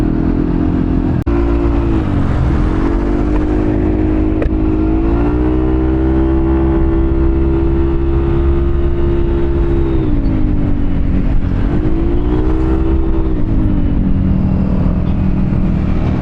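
Yamaha Aerox 155 scooter fitted with a new aftermarket exhaust, revving loud and close in repeated rising and falling swells over a continuous engine drone.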